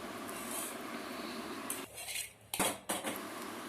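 Metal spoon clinks and scrapes against a bowl of curd as tempering is added, in several short bursts, a few sharp taps standing out, close and fairly quiet with no talking.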